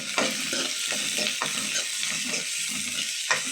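Onion and grated ginger sautéing in a pan, a steady close sizzle and crackle broken by a few soft scraping stirs, with no voices.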